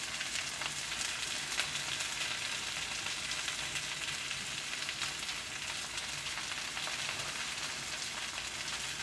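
Shrimp sizzle and fry steadily in a hot pan for a steak and shrimp stir fry, a constant close crackling hiss with no talking throughout.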